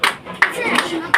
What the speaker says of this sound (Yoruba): Èmi rò pé yẹ ká pàtẹ́wọ́ fún màmá Máyọ̀ rẹ̀